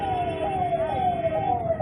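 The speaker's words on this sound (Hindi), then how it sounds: "अब आप देख लीजिए कि एक एम्बुलेंस है वो भी यहाँ फंसी हुई है, आपको नजर आ रही होगी।" Ambulance siren wailing steadily while stuck in a jammed city street in India, its tone sweeping up and down over the dense rumble of idling traffic throughout.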